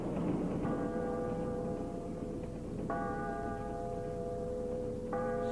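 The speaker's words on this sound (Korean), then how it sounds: "새벽 종소리에 김구는 눈을 번쩍 떴다" A bell rings at dawn three times in steady succession, each stroke sustaining a resonant tone over a constant background hum, with no talking.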